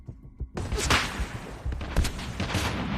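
Gunfire in a video game battle, a sudden loud burst of shots after brief quiet, then continued sharp reports and rattling combat noise close up.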